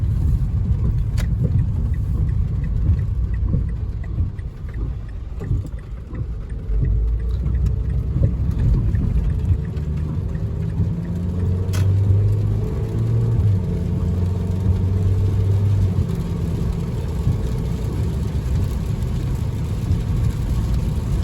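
A 2016 Honda Accord V6 being driven, heard from inside as a steady low engine and road rumble lasting the whole stretch, with no talking.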